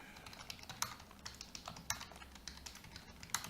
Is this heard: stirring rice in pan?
no